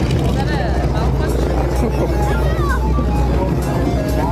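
An Agusta A109 helicopter flies at a South African Air Force airshow, its rotor and turbine giving a loud, steady throbbing rumble that fills the whole stretch amid crowd noise.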